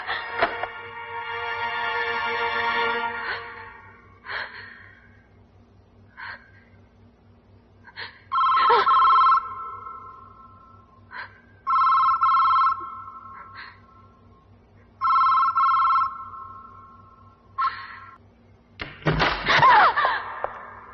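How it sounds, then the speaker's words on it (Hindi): A telephone rings again and again in bursts and goes unanswered during a Bollywood film scene, with the rings clear and loud over a quiet room and a sharp crash near the end. "सुनील, सुनील, कमाल करती हो, घर होते हुए भी तुमने फोन नहीं उठाया।"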